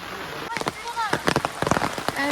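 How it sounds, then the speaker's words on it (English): Heavy rain falls in a forest near Mirik, a dense steady patter on leaves and surfaces, with a person talking over it. "And it's like raining so heavily, so heavily."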